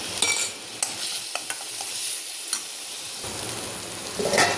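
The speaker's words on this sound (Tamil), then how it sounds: "இந்த வெங்காயம் நல்லா வதங்கிட்டுருக்கு" Onions sautéing in oil with a spoonful of masala powder, stirred in a pan with homegrown curry leaves nearby; steady close sizzle with scraping stir strokes and a louder crackling burst near the end, no talking.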